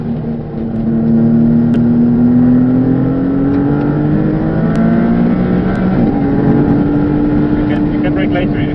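A Maserati MC20's twin-turbo engine pulls hard on a race track running Bridgestone Potenza race tyres, a loud sustained drone climbing steadily in pitch through the gears, with a brief dip and shift near the end, continuous throughout.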